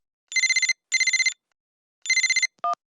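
A cartoon telephone rings in three rapid electronic trill bursts separated by brief pauses, followed by a short single beep, loud and isolated against silence.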